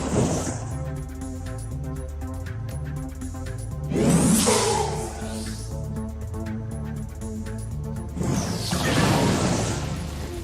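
Creatures bursting apart on death in the video game Shadowrun Dragonfall, two loud crashing blasts roughly four seconds apart with whooshing debris tails, set over a continuous droning musical score.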